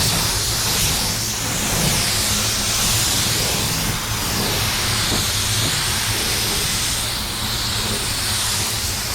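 A 3M Performance spray gun lays paint onto a white car in a continuous, loud, airy hiss that carries through the whole stretch, with a steady low rumble underneath.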